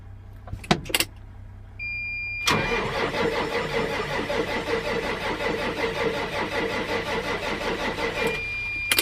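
A Case MXM 190 diesel tractor on a winter cold start: a couple of short sharp knocks, then loud grinding cranking catches into a rough, steady clattering run for several seconds before it drops away near the end.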